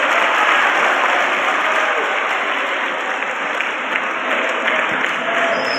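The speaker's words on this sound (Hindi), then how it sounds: "एक बार जोरदार ताली बजा सकते हैं।" Students in a college hall at a career counselling session clap loudly in sustained, dense applause that stays steady and full for the whole stretch, with no voices standing out above it.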